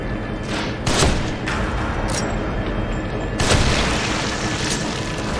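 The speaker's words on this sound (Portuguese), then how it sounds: "Dois tiros de sniper e cai no chão." Loud booming gunshots from a sniper rifle in The Evil Within, two heavy blasts a few seconds apart over a constant dense rumble of game ambience.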